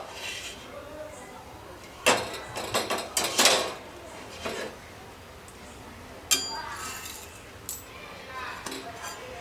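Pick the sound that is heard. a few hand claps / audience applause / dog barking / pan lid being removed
pan lid being removed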